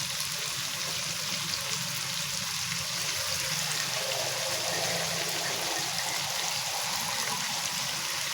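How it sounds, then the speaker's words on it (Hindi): Water poured into a cooking pot for white pulao yakhni, a steady continuous stream with a soft gushing hiss that stays even throughout. "अब हम इसमें पानी डाल देते हैं।"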